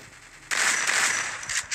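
Shotgun fire in the Free Fire battle-royale mobile game on the new map: a sudden loud, close blast that starts the clip and rings on, followed by a couple more sharp shots near the end.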